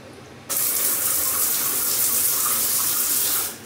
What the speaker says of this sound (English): As you can see, it has a rainforest shower.